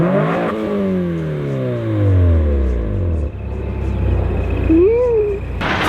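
Nissan S15 Silvia engine revving hard, each blip sweeping up and falling back in pitch as a loud close rumble that settles into an idle, with brief voices nearby.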